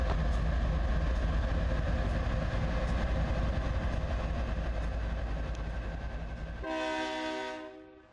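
BNSF freight trains racing alongside a Ferromex GEVO locomotive rumble loudly and steadily with rolling wheel noise, ending in a strong, sustained multi-tone train horn blast near the close.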